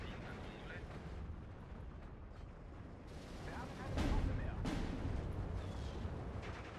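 Mortar rounds in the war video game Steel Division 2 boom and rumble through a battle soundscape, with a heavier blast about two-thirds of the way in, while a voice talks over the action.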